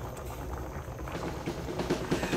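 A pot of squash soup with squash shoots bubbles at a low rolling boil, giving a soft, close, continuous burble for a couple of seconds.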